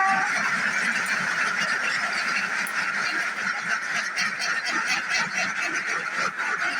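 Ducks leaving their duck house on a farm set up a loud, continuous chorus of overlapping quacks and honks, close and steady the whole time with no talking.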